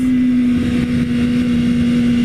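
A BMW S1000RR motorcycle engine holds a loud, steady high-pitched drone at close range, with constant volume throughout and no voices.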